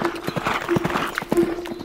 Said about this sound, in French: Fais le cheval blanc qui galope face au vent.